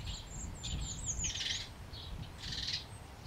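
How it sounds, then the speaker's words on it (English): A starling gives a few thin whistles and chirps, fairly faint and a little distant. The calls come in short bursts over a low background rumble, with no voices. "the starling, with its elegant gold and white-tipped feathers"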